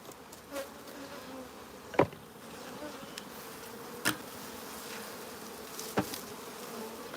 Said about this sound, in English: let's just give this a bit of smoke just to clear the bees off the top